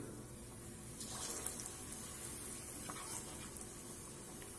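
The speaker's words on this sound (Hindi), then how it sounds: "अब हम ये आलूओं को एक एक करके इसमें डाल के फ्राई कर लेंगे।" Batter-coated potatoes frying in hot oil for aloo barule chaat, a steady low sizzle and crackle throughout with a few faint bubbling pops, no voices.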